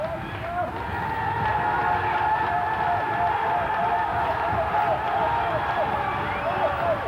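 An Icelandic crowd at the 1990 European Powerlifting Championships cheers for a lifter, a steady, dense roar of many voices and shouts that holds at an even, loud level throughout.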